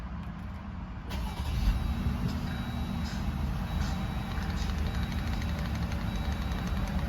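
A 2025 Jeep Gladiator High Tide engine cranks and fires about a second in, then settles into a steady, rumbling idle that continues close and even to the end.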